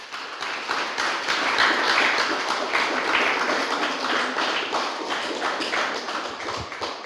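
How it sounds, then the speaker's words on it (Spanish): A church congregation claps loudly in a strong, sustained round of applause with fast, overlapping hand claps that last throughout, near and dense. "Denle un aplauso fuerte al Señor"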